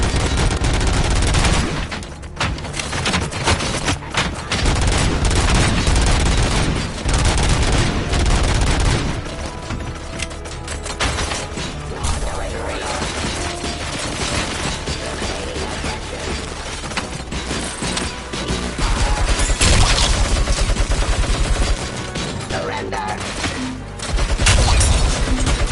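Heavy, sustained gunfire from the Robocop video game: dense bursts of automatic fire and booming impacts run loudly and almost continuously, with brief lulls before more volleys.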